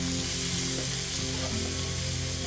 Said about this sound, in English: in the same wok, I'm going to add the rest of the oil, the sesame seed oil, and to this I'm adding the chopped onions